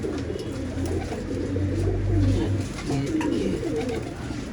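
Pigeons in a keeper's loft in Jamshedpur, Jharkhand, cooing in low, repeated throaty calls close by, with faint voices in the background.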